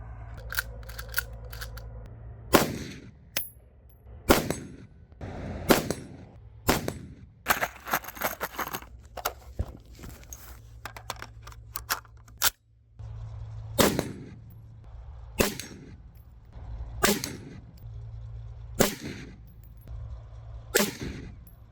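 Rifle shots fired at a steel target during sighting-in with 77-grain ammunition, a series of sharp, separate cracks spaced several seconds apart over a low steady hum, with no talking.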